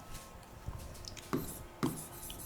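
Chalk taps and scratches on a board during a chemistry lecture on ethers, with light strokes and two sharper knocks, faint against room noise.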